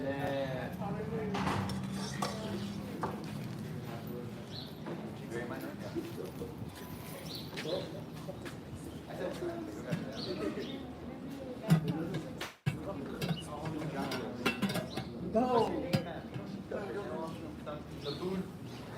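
Metal scraping and clinking from cleaning a cast iron Lodge wok disc used for discada tacos, as bits are scraped off into a bowl; the utensil scrapes come in short bursts under ongoing conversation.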